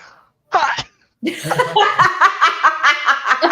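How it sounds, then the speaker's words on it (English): A single sharp sneeze bursts out in a casual wrestling-predictions podcast chat, followed by people talking and laughing together. "did you just sneeze?"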